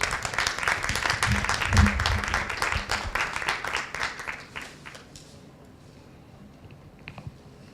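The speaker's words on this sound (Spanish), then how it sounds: "Los recibimos con fuertes aplausos" Audience applause welcoming panelists Fabio Morábito and Gabriela Olivo de Alba at a Lima book fair talk, a dense burst of clapping that fades out after about five seconds, leaving a quiet room with a few faint sounds.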